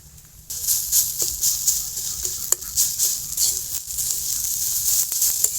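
Onion and garlic fry in a pan with a steady bright sizzle and hiss, occasional sharp crackles and a utensil tap punctuating the continuous frying, close and fairly loud.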